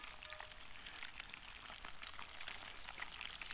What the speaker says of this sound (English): Put it in the hot oil.